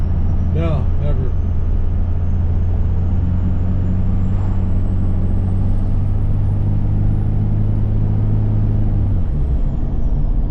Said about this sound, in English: The turbo sounds great.